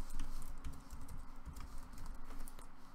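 Rapid keystrokes on a computer keyboard while code is typed, a close, steady patter of clicks with small irregular bursts and no talking.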